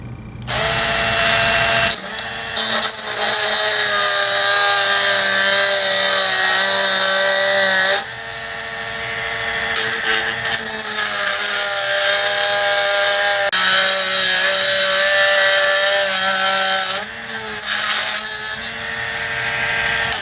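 A power tool whines as it cuts the skirt off a part for a Xisico XS-B28 pellet rifle, loud sustained high-pitched bursts broken by a few short pauses, with no talking.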